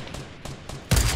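Gunfire in the Fortnite video game: a few light shots, then a sharp, loud burst near the end, standing alone with no talk.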